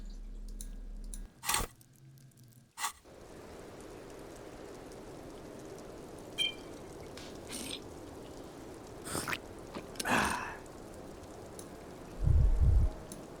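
Rain ambience from the video game Disco Elysium: a soft, continuous patter of rainfall with occasional brief clicks and a low thump near the end, with no voices.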